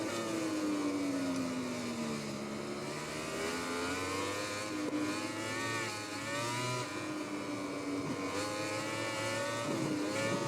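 Race motorcycles in the MotoGP 20 video game at an Argentina round: a continuous, loud, high-revving engine scream whose pitch climbs and drops through gear changes, heard alone without talk.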